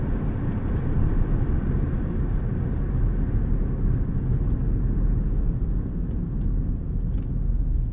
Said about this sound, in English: Let off the throttle in this mode, it'll switch into neutral and just coast at about 800 RPM.